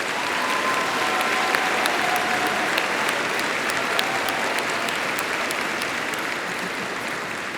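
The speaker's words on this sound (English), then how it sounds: "Please join me in a round of applause for our master degree students." A graduation audience at Schreiner University claps for master's degree students, dense sustained applause filling the hall for several seconds and easing slightly toward the end.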